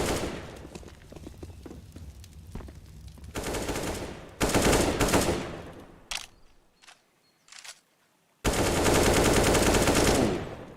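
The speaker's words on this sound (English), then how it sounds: "Volt comes through with the USP kill." Counter-Strike gunfire comes in bursts of rapid automatic shots with bright cracks, broken by short gaps and a few single shots, then a loud sustained burst at the end.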